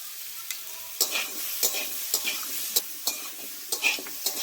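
Fish pieces sizzle in hot oil with chili and turmeric while being stirred, a bright steady frying hiss punctuated by repeated sharp spatula scrapes every half second or so.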